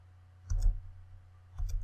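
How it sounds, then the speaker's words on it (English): The Tab key on a computer keyboard is pressed twice, each a short, soft plastic click-clack about a second apart in a quiet room. "Every time I hit the tab key"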